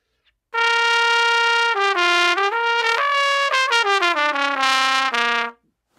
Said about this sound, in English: you can do something that we call a flutter tongue. And it sounds almost even like a more crazy version of the growl.